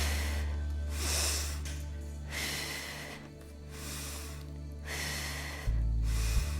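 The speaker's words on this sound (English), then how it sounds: "So inhale here and exhale." Slow, deep breaths during a beginner yoga workout, with long airy inhales and exhales alternating through the nose over a steady low hum, close and fairly soft.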